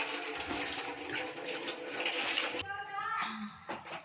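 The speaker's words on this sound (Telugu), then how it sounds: "ఈలోపు నేను చింతపండుని శుభ్రంగా కడిగేసి నానేసుకుంటాను అనమాట" Tamarind is washed under running tap water in a home kitchen, a continuous splashing rush that cuts off abruptly partway, leaving quieter trickles and dripping.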